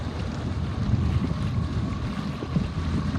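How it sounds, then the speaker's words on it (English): Steady wind rushes over the microphone during a Laser sailboat race on open water, a constant broadband roar with no voices. "This is the best wind of the day."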